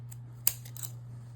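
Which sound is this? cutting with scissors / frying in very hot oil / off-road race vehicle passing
cutting with scissors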